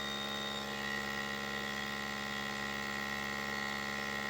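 Vacuum sealer drawing the air out of a package of pork, a steady unbroken motor hum with a constant electrical drone and no speech.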